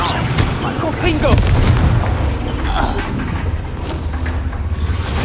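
Confringo explosive spell blast in the Hogwarts Legacy video game, a loud, booming burst with rumbling, crackling debris that fades into a dense low roar of game combat noise.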